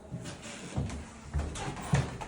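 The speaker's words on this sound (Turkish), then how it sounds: "Kapıyı aç, otomatik açabilirsin." An automatic door opening inside a museum, with a few soft dull thuds and rattles of the mechanism spread over two seconds, faint and close, no speech.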